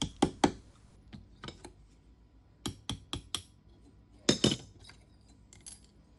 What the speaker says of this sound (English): I'll just use a punch and drive that out.